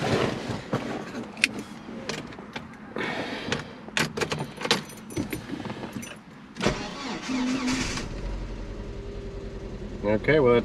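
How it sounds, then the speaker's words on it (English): A Chevrolet Blazer engine cranks and fires up on a recharged battery, then settles into a steady idle, preceded by door and key handling sounds close by. "that starts it up just fine now."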